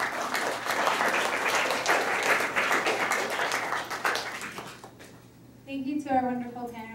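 Audience applause for panel speakers at a faith panel event, sustained dense clapping for about five seconds that thins out, then a voice begins speaking.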